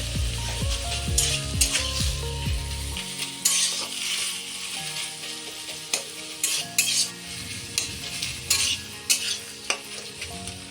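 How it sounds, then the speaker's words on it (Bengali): Taro leaves (kochu shak) are stirred dry in a hot pan on a gas flame, a spatula scraping and knocking in uneven strokes over a soft sizzle, with occasional sharper metallic taps close by. "10 মিনিটের মতন কিন্তু নাড়াচাড়া করেছি"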